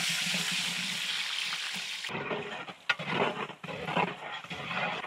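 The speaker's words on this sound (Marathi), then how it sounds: "आपण आता चिरलेले कांदे घालून घेऊ।" Chopped onions sizzle steadily in hot oil in a pot while Maharashtrian wedding-style masala rice is being cooked, a dense close hiss with a few soft stirring knocks and scrapes.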